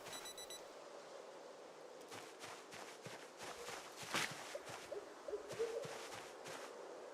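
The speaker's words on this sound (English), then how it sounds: "We got a fucking wristwatch alarm going off somewhere" Wristwatch alarm going off in Project Zomboid, a faint rapid beeping near the start, followed by scattered footsteps and thumps with no talk.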